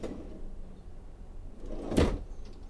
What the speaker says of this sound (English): And all the drawers and even the doors are soft close.